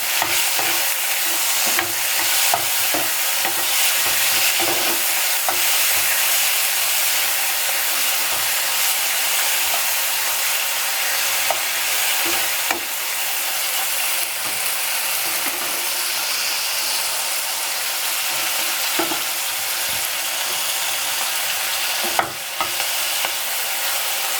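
Onion and tomato fry together in a pan with a steady, close sizzle, broken by frequent scraping and clinking as they are stirred, and no voices.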